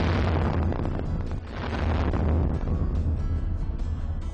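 Blast test on a structure coated with Line-X spray-on bedliner, a sustained roaring explosion with heavy low rumble and debris noise, loud and continuous for several seconds.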